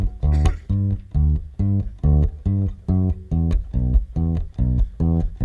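A bass guitar plays a bluegrass-style intro, a steady bouncing pattern of evenly spaced, punchy low plucked notes, about two per second, close and clear with no talking.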